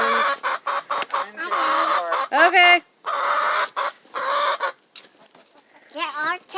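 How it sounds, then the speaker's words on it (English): Several backyard chickens cluck and squawk in repeated close bursts, with brief pauses between calls, and one short spoken word partway through. "There are 7 chickens."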